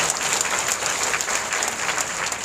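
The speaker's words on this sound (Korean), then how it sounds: "박수하겠습니다." A church congregation applauding during a worship service, dense steady clapping from a large crowd that fills the whole stretch evenly.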